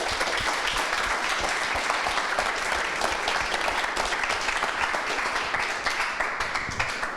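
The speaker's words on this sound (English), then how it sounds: "All right, give another applause for Tim." A meetup audience applauds a speaker with steady, dense clapping that fills the room at an even level from start to finish.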